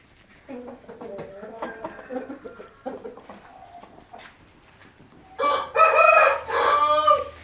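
A rooster crows loudly and close by in two long calls near the end, after a stretch of people talking.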